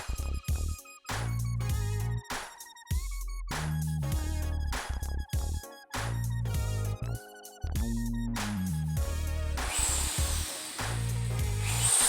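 A power drill whirs in repeated bursts, starting and stopping with pitch changing as it bites in, ending in a harsher grinding stretch.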